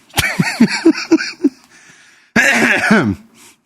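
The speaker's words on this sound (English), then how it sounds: "still coughing my lungs out." A person coughs in a rapid, harsh series, pauses briefly, then breaks into another strained fit of coughing close to the microphone.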